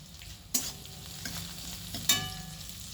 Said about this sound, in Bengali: এ দেখুন পেঁয়াজটা রসুনটা আমার ভালোভাবে ভাজা ভাজা হয়ে গিয়েছে।